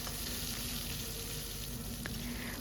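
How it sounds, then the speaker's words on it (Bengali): Cut eggplant frying in a pan for lau shak: a dense, steady sizzle of hot oil, close and constant throughout, with no talking. "বেগুনটা দেওয়ার পর ওই এক দেড় মিনিটের জন্য বেগুনটাকে একটু ভেজে নিচ্ছি"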